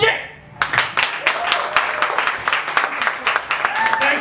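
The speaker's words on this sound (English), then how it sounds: "Please put your hands together for the very funny Tony Puljic." A comedy club audience at a stand-up show claps and cheers for a comedian being introduced, a lively burst of applause that swells after a brief lull and carries on steadily.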